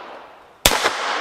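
A child firing a pistol or automatic rifle at shooting practice: one sharp, loud report cracks out over faint outdoor background, followed by a brief echoing tail.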